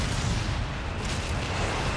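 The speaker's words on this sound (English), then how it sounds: "mind the whiz-bang, I imagine another barrage there out of Demo.Hammer" An artillery barrage in Company of Heroes 3, a thick roll of rumbling explosions and bursts that fills the whole moment at a steady, heavy level.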